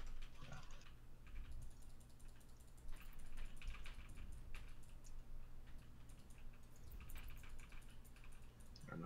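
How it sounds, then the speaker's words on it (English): Keyboard clicks and taps from a computer during a Warcraft 3 Battle for Middle-earth Reforged game session, faint, rapid and scattered over a quiet background with low hum. "I have to smash the keyboard."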